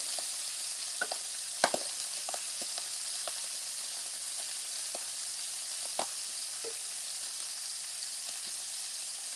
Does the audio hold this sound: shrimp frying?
yes